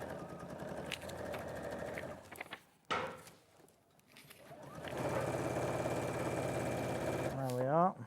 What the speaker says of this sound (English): Right, so I'll sew this at 1/2 inch.